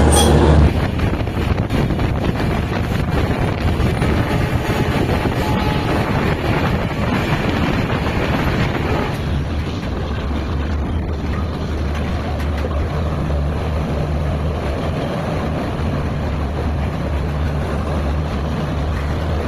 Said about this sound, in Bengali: আমাদের 125-018 গরিব রথ এক্সপ্রেস তার নির্দিষ্ট সময় থেকে 5 মিনিট বিলম্বে ট্রেন ছেড়ে বেরিয়ে যাচ্ছে গুয়াহাটি থেকে